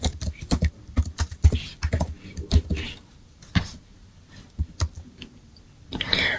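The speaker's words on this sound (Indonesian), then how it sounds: "Udah, kita ketik saja pembuatan" Keys clacking on a computer keyboard while entering a company brochure memo, in quick irregular bursts up close, thinning into scattered single presses toward the end.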